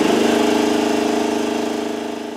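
A steel tank air compressor runs close and loud, its motor pumping in a fast, steady pulsing drone that holds with no pause or voices.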